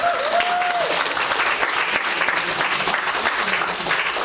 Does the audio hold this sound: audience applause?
yes